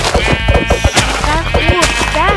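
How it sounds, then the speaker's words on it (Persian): Sheep bleating in the Minecraft video game, several short wavering cries repeating close together over a steady background of game sound. "کلی گوسفند هست که"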